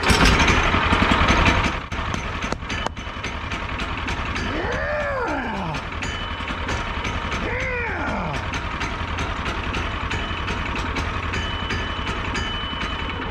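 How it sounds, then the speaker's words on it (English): A Woodland Mills sawmill engine runs steadily, its rapid, even firing pulses continuing after a louder, rougher burst at the start. "This is just an engine test."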